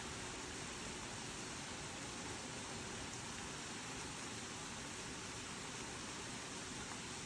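Rain falls steadily on a rainy day as an even, soft hiss that fills the background without pause, faint and broad, with no voices over it.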